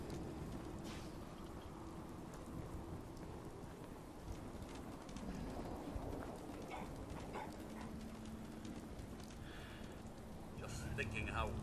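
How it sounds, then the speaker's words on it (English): Steady rain falling on a night in the Fallout 4 video game, a constant soft hiss of drops that carries on throughout, with voices talking over it. "Thinking how wonderful it would be to get out of this infernal rain."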